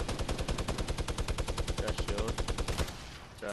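Rapid automatic gunfire in an online shooter video game, a steady run of evenly spaced loud shots for nearly three seconds before breaking off.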